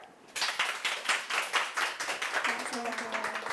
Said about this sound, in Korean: 김물길 작가님을 박수로 한번 모셔볼게요